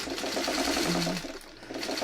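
A domestic sewing machine stitches a tight, small curved seam on a quilt block, its steady mechanical whir running continuously at close range with a brief dip in pace midway.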